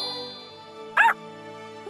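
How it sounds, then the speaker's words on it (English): A cartoon puppy from an animated preschool series gives two short, loud yips, one in the middle and one at the very end, with a faint musical tinkle underneath. "We turned Bubble Puppy back into a puppy"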